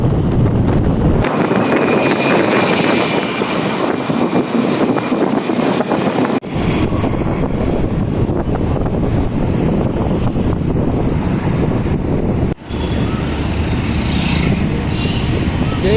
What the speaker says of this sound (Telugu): పిచ్చి గాలి వస్తా.